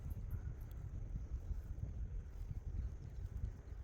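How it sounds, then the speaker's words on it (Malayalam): Wind buffets the microphone in a quiet, isolated outdoor spot, producing a low, continuous rumbling gust noise with no other clear sounds. "അതെ, നല്ല കാറ്റ്."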